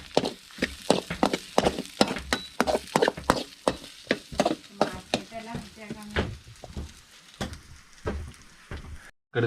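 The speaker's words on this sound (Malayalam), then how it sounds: "നല്ല രീതിയിലൊന്ന് ഇളക്കി കൊടുക്കാം" A spoon scrapes and clacks repeatedly against a pan as a breadfruit (kadachakka) mixture is stirred while frying, an uneven run of close knocks over a soft sizzle.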